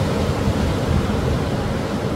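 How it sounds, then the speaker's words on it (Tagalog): Broad, steady surf noise fills the air at Baler, a dense hiss and rumble of ocean waves up close with no clear breaks and no talking. "Palakas na ng palakas ang alon."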